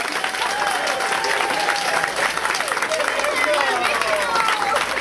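Wedding guests applaud and cheer after a toast to the bride and groom, a loud, continuous burst of clapping with voices and whoops mixed in, sustained throughout.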